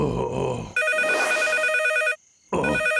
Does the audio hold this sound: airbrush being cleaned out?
no